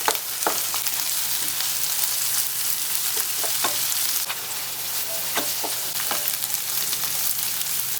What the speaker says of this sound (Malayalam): ഇനി നമുക്കിത് ഒരു ഗോൾഡൻ ബ്രൗൺ ആവണ വരെ ഇതുപോലെ തന്നെ ഇളക്കി കൊടുക്കണം